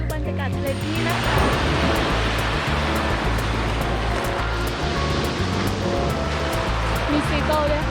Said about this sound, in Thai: ดูบรรยากาศทะเลที่นี่นะคะ